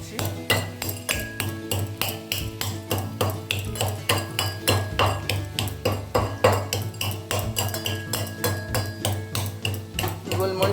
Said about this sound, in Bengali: এবার গোলমরিচ ক্র্যাশ করছি।